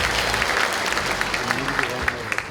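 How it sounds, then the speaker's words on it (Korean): Sustained applause from a large crowd at a Uljin County community talk concert, dense and steady for the whole stretch, with a few sharper claps standing out and a voice faintly mixed in. "큰 박수 다시 한번 보내주시기 바랍니다."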